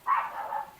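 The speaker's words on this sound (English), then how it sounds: "I don't know what they're barking at. Probably another dog walking down the road." A single dog bark sounds at a rural home, one brief drawn-out woof at moderate distance, alone with no talk.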